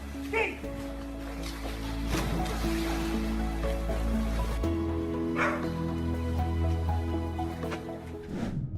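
A dog barks in a few sharp yips and bow-wows over steady background noise, the barks fairly close and brief, with some wave-like rushing underneath.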